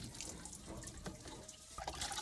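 Water trickles and drips softly while plants are being watered outdoors, a faint, uneven splashing with small irregular drops and no talking.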